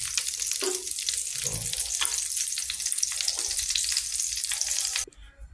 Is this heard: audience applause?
no